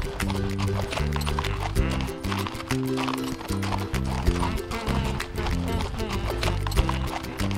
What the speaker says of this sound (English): Let's go get on a horse.